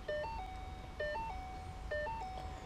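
An SCT tuner emits repeated electronic beeps while launch control is programmed, three identical short melodic beep patterns about a second apart, faint and clear over a low background hum.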